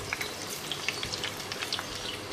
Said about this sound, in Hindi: और इसी ऑयल में ये टमाटर के पीसेस डाल के इसको 10 मिनट के लिए